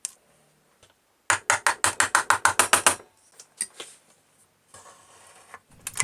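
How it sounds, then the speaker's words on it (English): A piston ring compressor clicks in a rapid run of about a dozen sharp ratcheting snaps while fitting a piston into a Briggs and Stratton 450e engine, followed by scattered softer metal taps. "The piston rings do need to be compressed using the piston ring compressor"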